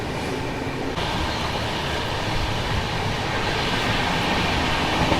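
A diesel locomotive hauling the Palace Queen Humsafar Express rolls past in a steady, loud, continuous rumble with rail noise, no talk over it.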